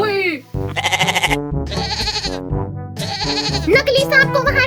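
A young goat kid bleats over and over in a farmer's field, letting out a string of loud, wavering cries close by with hardly a pause between them.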